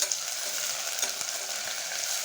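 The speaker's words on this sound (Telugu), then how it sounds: "వీటిని ఫ్రై చేసుకోవాలి చూడండి ఈ విధంగా ఫ్రై అవుతున్నాయి కదా" Vegetables for veg pulao fry in a cooker with a dense, continuous close-up sizzle, broken by a few light stirring taps.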